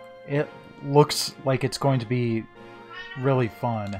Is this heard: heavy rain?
no